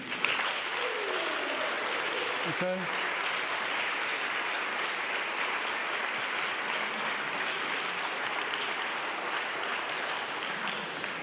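Sustained, dense applause from a conference audience at the closing session of the WFSF Conference in Berlin, 2021, a steady wash of many clapping hands that continues evenly throughout, with a single brief spoken word near the start.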